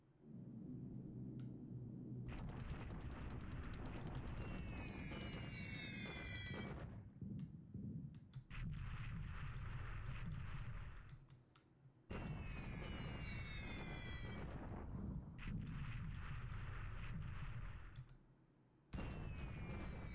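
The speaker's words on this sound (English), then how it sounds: "there's our flak starting to have an effect here" Anti-aircraft flak fires during a wartime air raid on Singapore in a video game: dense, loud bursts of repeated gunfire and explosions roll through most of the passage, broken by short lulls, with aircraft noise mixed in.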